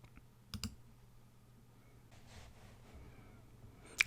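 Computer mouse clicks on a quiet desk, a quick double click early on and a sharp single click at the very end, with faint low hum between.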